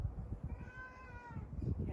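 A pet cat meowing on a New Year's outing in Kobe, Japan: one drawn-out, fairly clear meow in the middle, with rustling and handling noise close by and no distinct talk.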